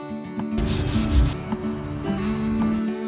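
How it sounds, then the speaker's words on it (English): Cloth rubbing Special Walnut stain onto wood for a DIY mini library, close repeated wiping strokes that rise and fall in quick bursts over soft background music. "And now I'm gonna work on staining the wood."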